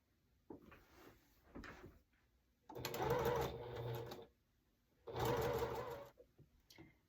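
A sewing machine stitches fabric squares together in two close, steady runs of a few seconds each, its rapid rattling broken by quiet pauses and small handling clicks.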